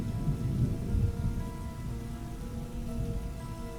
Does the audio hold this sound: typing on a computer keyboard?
no